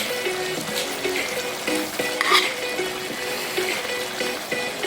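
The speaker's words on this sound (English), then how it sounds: "Add some onions." Onions dropped into a pot of hot seasoning for a Jamaican-style chicken and vegetable curry stew, giving a soft, steady sizzle with light clinks and stirring scrapes, fairly quiet and with no talking.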